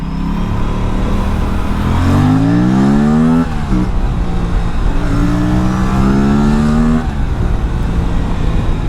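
Aprilia RS457 motorcycle engine on a test ride, loud and close, climbing through two long rising revs with quick drops between gear changes over a steady rumble, no voices.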